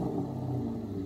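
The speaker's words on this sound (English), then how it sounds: "I love listening to the sound of the exhaust so much" A Ferrari V8 running on a non-original exhaust with its original catalytic converters gives a steady, low, rumbling drone, fairly quiet and heard alone for about a second.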